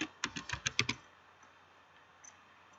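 A short burst of quick keystrokes on a computer keyboard, about eight clicks within one second, close and quiet, followed by near silence.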